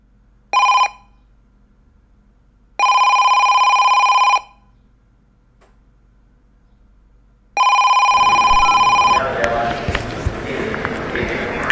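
An electronic telephone ringtone sounds loud and close in three separate bursts with silent gaps between them, the last cut off as noisy background bustle and voices take over.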